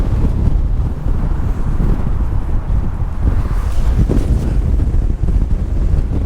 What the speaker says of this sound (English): it's really strong, that wind